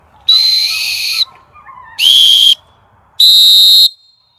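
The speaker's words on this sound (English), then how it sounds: "It just depends on how hard you want to blow the whistle." Three sharp, shrill blasts from a plastic dog training whistle, the first long, the second short, the third long with a brighter overtone, each loud and separated by brief pauses.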